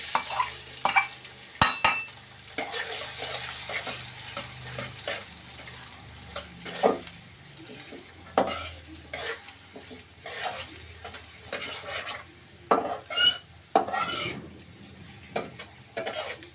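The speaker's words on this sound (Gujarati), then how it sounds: "અને આપણે એને હલાવતા રહીશું, એટલે શું છે બળી ન જાય।" Finely chopped onions frying in a pan for a chicken curry: steady sizzling broken by repeated scraping and clanking strokes of a spoon stirring, with no talk.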